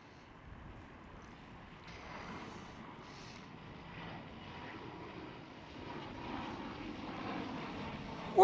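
A KLM Cityhopper Embraer E195-E2 jet airliner at Amsterdam Schiphol gives a steady, distant engine roar that slowly swells, with light wind noise on the microphone and no talking.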